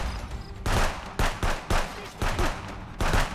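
Rapid bursts of gunfire in the video game Contraband Police crackle loudly in quick succession, several volleys within a few seconds.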